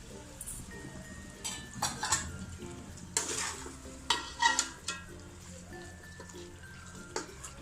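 Mutton pieces being stirred in a frying pan for biryani, a soft sizzle underneath with intermittent spoon scrapes and metallic clinks against the pan, close and fairly quiet.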